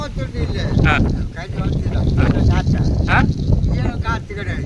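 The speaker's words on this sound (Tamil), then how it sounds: "இது காற்று இல்லையா" Strong wind on the seashore at Azhikal beach buffets the microphone with a constant rough roar. People talk over it throughout.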